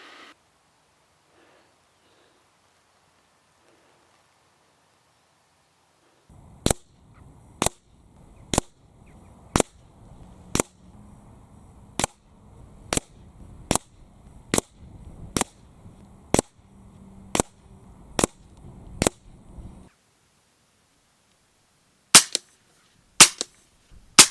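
A regular series of sharp, snappy pops from an FX DRS Classic 600 FAC .22 air rifle, about one every second, followed after a pause by a few more quick shots, fairly close.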